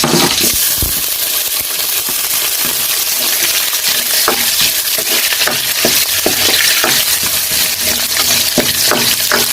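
Garlic and onion frying and being stirred in a pan while cooking sinigang, a steady loud sizzle with scattered scraping clicks of the utensil throughout, no talking.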